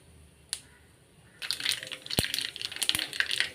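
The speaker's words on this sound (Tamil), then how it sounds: "கொஞ்சம் கடுகு பொரியட்டும். பொரிஞ்சதுக்கப்புறம் போடலாம்." Mustard seeds sputter in hot oil in a pan while a lemon pickle is being cooked, a quiet start with one click, then a dense run of close, sharp pops and crackles.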